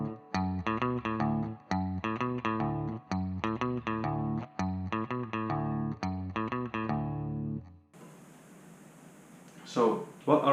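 Rockabilly electric guitar plays the intro riff of a song in drop D tuning, a repeated bouncy phrase of plucked low-string notes in steady rhythm, ending with a burst of rustling noise.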